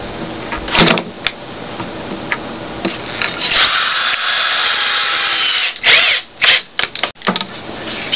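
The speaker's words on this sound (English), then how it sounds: "I want to countersink them so it doesn't affect my working surface." A power drill bores countersinks for screw holes in wood for a router table, a loud close whine with short bursts, then a sustained run of several seconds, then more quick stop-start pulses.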